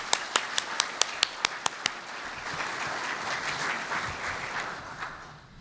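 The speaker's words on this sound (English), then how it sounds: "Let's give a big round of applause for the sponsors." An audience applauds for event sponsors before a talk on the Long Beach economy, opening with a few sharp single claps that swell into steady, full applause and then tapers off near the end.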